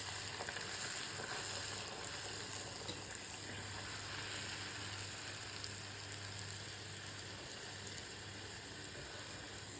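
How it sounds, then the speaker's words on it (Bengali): Luchi and bora deep-frying in a hot kadai of oil, a steady close sizzle and crackle running evenly throughout, with a low constant hum underneath and no talking. "লুচিটা আর বড়াটা ভেজে নেবো"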